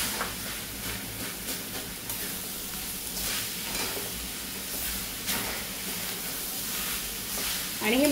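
Sweet filling of fresh coconut and jaggery being stirred in a pan, with a continuous soft sizzle and hiss under a steady scraping motion, close by throughout.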